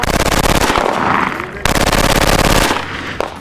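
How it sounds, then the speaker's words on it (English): A submachine gun fires long, loud, rapid-fire bursts with a sharp, tight crackle, a brief break splitting two sustained strings of automatic fire. "The firing sound is tight and smooth, and the weapon handles like an extension of the body, fast, silent, and precise."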